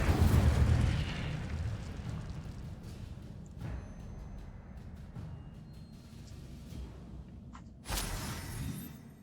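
An Incendio fire spell cast in the game Hogwarts Legacy gives a loud, roaring burst at the start that fades into a low rumble, then a second sharp flare near the end.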